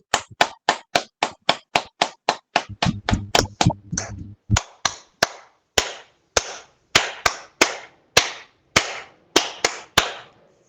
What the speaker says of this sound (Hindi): रंजना जी के लिए तालियां।